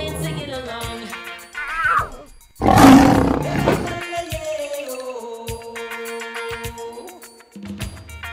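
Lions roar within a children's safari song, a deep, loud roaring burst rising over a melodic musical backing with sustained tones and other roars joining in.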